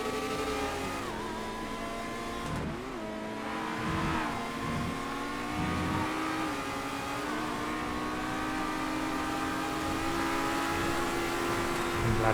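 Race car engines in GTA FiveM roar steadily and loudly throughout, with repeated rising revs and gear shifts as several cars run close together.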